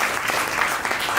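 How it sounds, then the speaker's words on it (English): An indoor audience at a guest speaker event claps in dense, steady applause, a continuous patter of many hands heard close and fairly loud with no talk over it. "Let's give them a round of applause."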